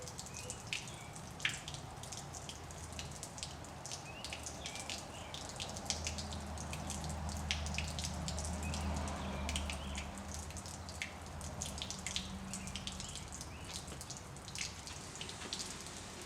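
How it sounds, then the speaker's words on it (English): Water drains from an engine through an open petcock, making a quiet stream of close, irregular drips and splashes over a low mechanical hum. The sound runs steadily throughout. "Let that water drain completely out."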